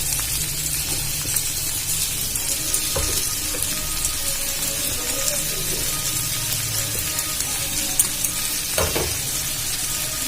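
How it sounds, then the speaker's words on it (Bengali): Steady sizzling of mashed boiled potatoes in a frying pan with scraping and stirring strokes now and then, loud and close, with no voices. "এবারে ভালো করে নাড়াচাড়া করে নেব"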